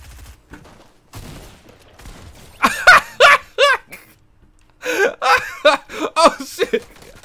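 Gunfire in the video game Fortnite, a few sharp bursts of shots spread across the clip in a quick rattling volley, mixed with game noise and some laughter, fairly loud.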